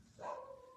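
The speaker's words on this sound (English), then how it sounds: "Don't mind my dog." A dog gives a single short bark close by indoors, standing out briefly against a quiet room.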